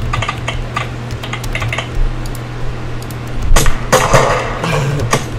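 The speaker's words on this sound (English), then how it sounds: "It's a tactile keyboard sound." Tactile keyboard clicks from a typing app on an iMac, a steady run of crisp keystrokes followed by a louder cluster of heavier key presses near the end, close and alone with no talking.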